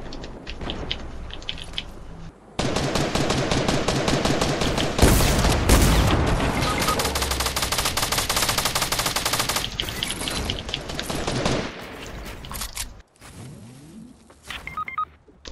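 Fortnite gunfire: long, loud bursts of rapid automatic shots that hammer on for several seconds, then break off into sparser single shots and quieter game sounds.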